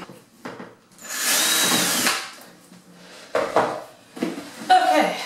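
A power drill bores holes into a plastic worm bin container, one sustained high whine followed by shorter bursts, fairly close and loud.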